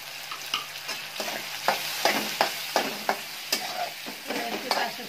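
Onion-garlic masala and red chili powder sizzle in a hot pan while a spoon stirs and scrapes through it, giving a steady frying hiss broken by repeated clinks and scrapes close by.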